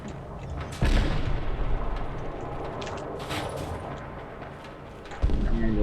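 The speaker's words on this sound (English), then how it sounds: "that stuff that sounds like cannon fire is just cannon fire" Distant cannon fire booms in the Fallout 4 video game, with heavy thuds opening and closing the stretch and a steady rumbling barrage in between, sounding alone without speech.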